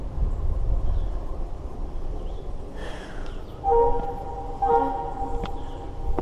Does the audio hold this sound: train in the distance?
yes